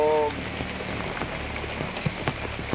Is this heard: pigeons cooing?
no